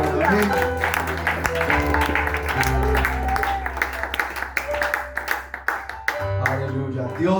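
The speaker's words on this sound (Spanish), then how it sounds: "¿Cuántos dan un fuerte aplauso al Señor esta hora?" A church congregation applauds during a worship service, with clapping mixed under a loud voice and music throughout.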